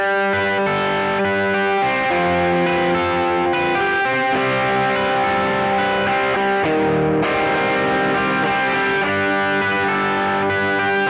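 Electric guitar overdub part from a song plays continuously with chorus and distortion effects, strummed chords ringing densely and loudly for around eleven seconds with no talking.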